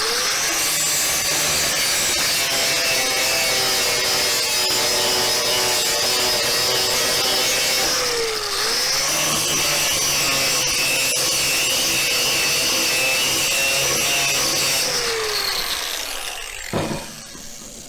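An angle grinder fitted with a grinding stone runs across a steel bender in a metal shop, a loud, close, high-pitched whine with grinding scrape that dips and rises as the tool is moved back and forth.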